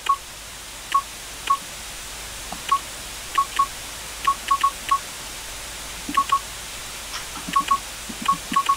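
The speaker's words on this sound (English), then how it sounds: "Now hang the telephone receiver on the modem so we can connect to the school network." Modem dialing tones from the PC game Commander '85 play as a run of short, crisp touch-tone beeps, some single and some in quick pairs or triplets, separated by uneven pauses over a faint hiss.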